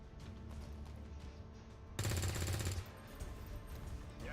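A single loud burst of gunfire in the modded XCOM 2 tactical strategy game, lasting under a second amid a steady game background with no talk.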